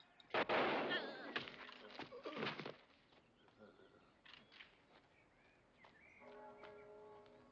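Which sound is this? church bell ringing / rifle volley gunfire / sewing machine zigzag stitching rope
rifle volley gunfire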